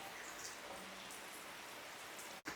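Steady rain falls as a continuous hiss of drops, even and unbroken, with no voices.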